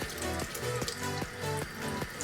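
Makeup brush being rinsed under running water, a soft continuous splash and trickle, faint and close, with light rhythmic swishes as the brush moves.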